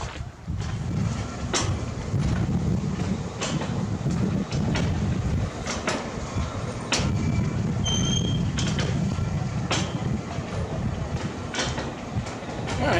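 A train rumbling along the rails at close range, with a steady low roar, repeated rhythmic clacks of the wheels, and a brief high squeal.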